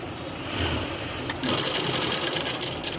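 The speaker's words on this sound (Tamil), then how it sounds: "கரெக்டாக மெதியடை பிடிச்சி தைக்கணும்" A sewing machine stitches blouse lining at the shoulder: a low running hum first, then a sudden louder burst of quick, rhythmic stitching that continues to the end.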